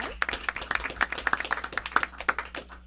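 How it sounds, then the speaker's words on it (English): Scattered applause at a school board meeting as an honoree is recognized, a small group clapping unevenly with distinct individual hand claps at close range, fairly light and thin. "let's give Miss Jamie Keck a round of applause."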